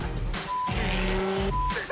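Car drifting with loud tire squeal and skidding, the engine revving hard as rubber screeches in long wavering bursts, close and continuous.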